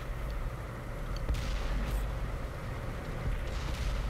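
A Cromwell light tank fires its gun in the PS4 game World of Tanks, giving one booming shot over a constant low engine rumble, followed by fainter mechanical clatter.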